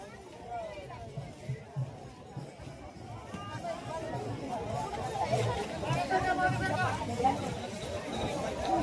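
A dense crowd at the Mauli palkhi procession talks and murmurs all at once, a busy babble that grows louder and thicker over the second half, with occasional footsteps and movement mixed in.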